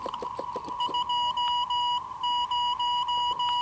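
SAQ Grimeton longwave telegraphy picked up on a radio: a steady Morse tone keying on and off in dots and dashes against hiss, with another beeping pattern on top, moderately loud.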